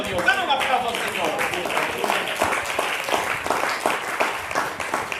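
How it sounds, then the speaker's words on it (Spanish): A church congregation applauds steadily throughout, dense rhythmic clapping filling the room at a fairly loud level, with a few voices mixed in. "Dale un aplauso al Señor."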